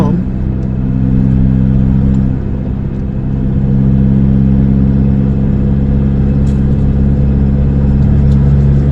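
Car engine pulling uphill in third gear on a long mountain climb, a loud, steady, droning rumble that holds its pitch throughout with little variation.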